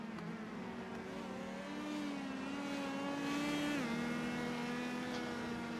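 An open-wheel USF Pro race car at Indianapolis Motor Speedway in iRacing drones along on its cooldown lap, a steady mid-pitched engine note that rises slightly, holds, then steps down as it shifts, heard alone.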